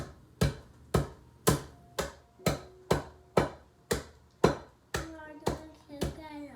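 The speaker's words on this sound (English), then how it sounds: "Doesn't take much hammering to smash these." Repeated hammer blows strike something in a bag at a steady rhythm, about a dozen sharp thuds, with children's voices faintly underneath.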